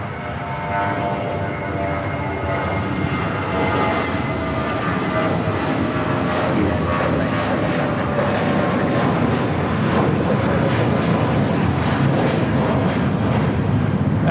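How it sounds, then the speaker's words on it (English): A United Airlines Airbus A320 takes off from runway 25 right at LAX, a broad sustained jet engine roar building slightly louder over the stretch, heard from a moderate distance with no talk. "That was United Airlines 797 taking off to Los Cabos on the A320."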